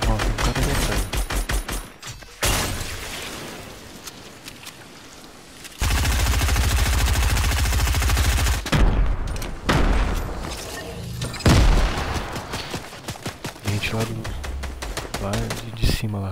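Bursts of automatic gunfire and booming shots from a Fortnite match come in dense, loud volleys separated by short pauses, with players' voices mixed in.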